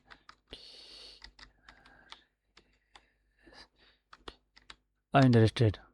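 Rapid bursts of computer keyboard typing as a comment is entered, a string of crisp close key clicks with short pauses, then a brief voice speaking at the end.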